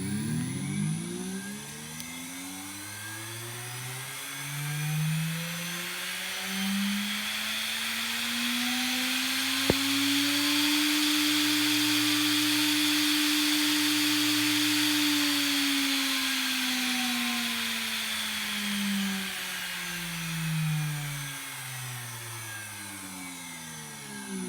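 A 3-phase inverter washing machine motor spins up to full speed on a variable frequency drive, a smooth rising whine and whir that holds steady, then winds back down, fairly quiet and alone.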